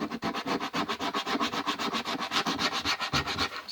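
Coarse 80-grit sandpaper rubbing over a Magic Sculpt epoxy putty face, close and steady, in a quick back-and-forth rhythm of rasping strokes with no talking.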